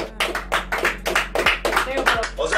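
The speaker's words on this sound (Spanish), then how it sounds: "¡Otro aplauso para ellos!" A crowd at an interview with music performers claps in a steady, even rhythm, loud and close, keeping a quick beat throughout.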